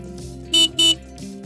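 A car horn gives two short, loud honks in quick succession over a faint engine hum in the background.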